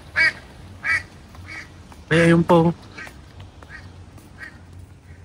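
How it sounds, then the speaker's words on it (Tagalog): Two dark ducks quacking nearby at a beach resort in Abu Dhabi, a pair of loud double calls standing out over outdoor ambience, with people talking before and after them. "May dalawang bibe akong nakita. Maitim."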